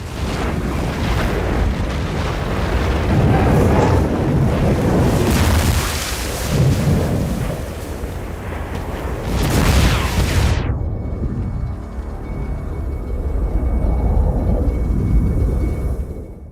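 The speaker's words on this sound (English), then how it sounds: "the worm scene where Paul finally rides the worm" Sound design from the sandworm ride scene in the film Dune: a loud, roaring wall of wind-like rushing and deep thunderous rumble that swells and surges, then cuts abruptly to a quieter, thinner hiss.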